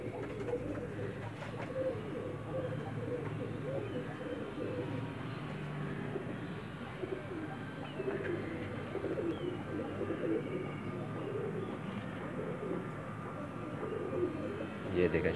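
Pigeons kept by a fancier coo softly and steadily in the background, low murmuring calls under someone talking nearby.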